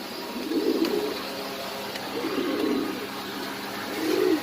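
Pigeons coo in three soft, rolling bursts at a pigeon farm sale in Mirpur-13, fairly close over a quiet background hiss.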